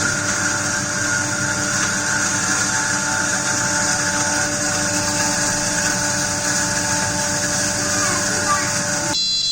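A domestic atta chakki flour mill grinds wheat with a loud, continuous mechanical whine and hum that stays steady and unbroken, cutting off sharply at the very end.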